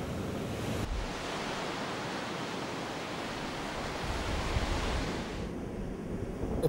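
Ocean waves breaking on the Boscombe artificial surf reef, a continuous loud roar of surf with wind buffeting the microphone, rising slightly toward the end with no voices.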